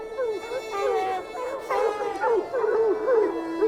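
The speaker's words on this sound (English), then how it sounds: "The unmistakable sound of hounds baying." Hounds baying while tracking a mountain lion through pine forest, several dogs giving long wavering howls and yelps that overlap and rise and fall, fairly close, with a voice talking over them.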